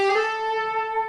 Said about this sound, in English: You can slide up.